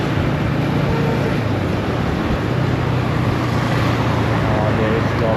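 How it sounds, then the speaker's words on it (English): Road traffic streams past a Yamaha R15 V3 motorcycle on the move, a dense, steady roar of vehicles and wind rushing close by, loud throughout without a break. "there is a lot of traffic here"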